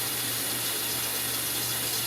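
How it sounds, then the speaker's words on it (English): Cool tap water runs steadily into a pot in a kitchen sink, a continuous close hiss and gush of flowing water that holds even throughout with no talking. "as I'm running cool water in, I'm going to drain off some of the hot water too"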